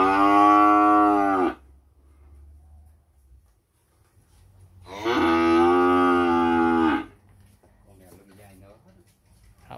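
Cattle at a cattle farm give two long, loud, close moos separated by a pause, with faint background noise between the calls.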